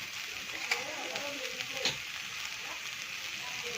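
Onion and boiled potatoes fry in a pan with a continuous sizzle broken by faint scrapes and clicks of stirring.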